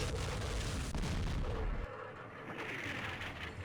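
Artillery fire in the Vietnam war game Campaign Series Vietnam, set in the Mekong, comes as faint, muffled booming and rumbling blasts that blur together and then ease off into a lighter crackle.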